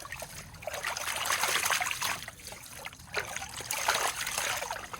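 Water pours and trickles from a bucket into a VDR sluice during gold prospecting, a steady splashing flow that swells and eases in waves, close and fairly loud, with no talking.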